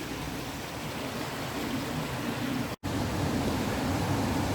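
The River Irk running full after recent rain, a steady broadband wash of flowing water heard close and fairly loud, with one momentary dropout partway through and no talk.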